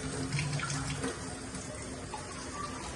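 Water pouring into a pot for boiling noodles on a gas stove, a steady close splashing gush that carries on throughout without speech.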